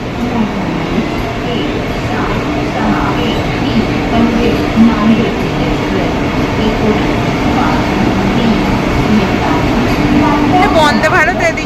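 A Vande Bharat express train rumbles continuously close by as it enters a station, with a steady roar and faint rail clatter, voices and platform noise mixed in, ending with a high electronic tone.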